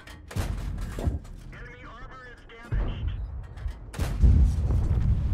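Tank guns fire in World of Tanks as three heavy booms spaced a second or two apart, each followed by a rumbling tail, with someone talking between the shots.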